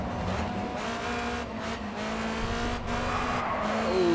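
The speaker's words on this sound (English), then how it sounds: "bit skidding on the curb there" A racing car's tires skid along a curb in Grid 2, a sustained engine drone under steady squealing tire noise over several seconds, fairly loud and continuous, with no talking.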